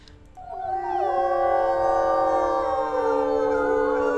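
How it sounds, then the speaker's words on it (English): Several wolves in the WolfQuest video game howl together in a rising, layered chorus of long sustained tones that swell and hold steady for several seconds, loud and close with no talk. "We're howling in territory that isn't ours"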